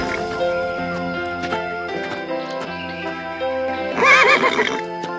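A cartoon horse neighs loudly in a short, shrill whinny near the end, above a musical score and background effects in a Tamil-dubbed animated Sinbad adventure from 1992.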